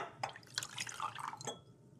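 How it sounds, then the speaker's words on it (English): Liquid solution poured into a glass conical flask for an iodine clock reaction, a few short splashy drips and trickles over two seconds, faint and close, with no talking. "as soon as you add your solution to your conical flask"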